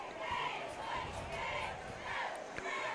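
Auburn football fans chant the War Eagle battle cry as a crowd at a game against Hillcrest, a sustained roar of massed voices swelling and falling in waves across the stretch.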